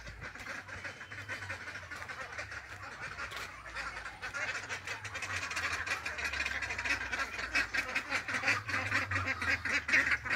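Domestic ducks foraging for food around a home, quacking repeatedly in a busy, overlapping chorus that grows louder and more insistent toward the end.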